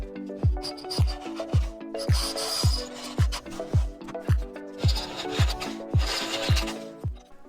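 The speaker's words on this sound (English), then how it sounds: "we have to grind down this new cleat to fit inside" A new footpeg cleat for a 1974 Yamaha DT250 enduro is being ground down to fit, with steady rhythmic abrasive strokes about twice a second, loud and close, each carrying a dull low thump.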